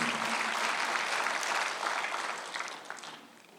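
Congregation applauding in church during a Korean Sunday worship service, a full, continuous burst of clapping that holds steady and then gradually thins and fades toward the end.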